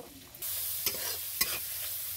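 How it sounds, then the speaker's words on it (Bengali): Fish oil sizzles in a pan with onion and chopped green chilli, a crisp frying hiss broken by several sharp scraping stirs of a spatula, close by and without talk. "এইগুলোকে পেঁয়াজ দিয়ে ভাজা হচ্ছে। পেঁয়াজ, কাঁচা লঙ্কা কুচি দিয়ে মাছের তেলগুলো খুব খেতে ভালো হয় এরকম করলে।"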